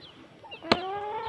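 A chicken gives a single sharp cluck outdoors among poultry, with a short tonal call trailing after it over quiet background.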